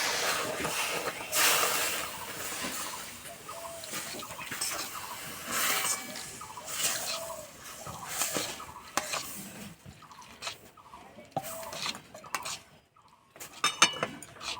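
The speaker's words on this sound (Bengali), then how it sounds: "এবার আমি জল দেবো, নাড়বো।" A spoon clinks and scrapes against a kadai as water is added and stirred into a chomchom sweet mixture, with close, uneven metallic knocks and a watery hiss over a steady background.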